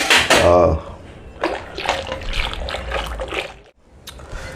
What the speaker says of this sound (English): I'll just whisk the whole thing so that everything, becomes like mush